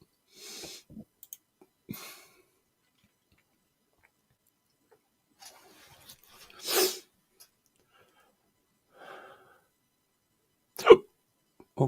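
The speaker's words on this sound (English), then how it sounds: "Hiccup." Scattered short, sharp hiccups, several isolated bursts spread across a quiet stretch with long silences between, close to the microphone.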